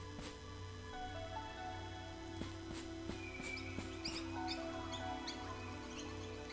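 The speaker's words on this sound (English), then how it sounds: "I hear birds." Birds chirp and tweet in a video game forest, short high calls repeating across a steady ambient music bed, fairly faint and alone without talk.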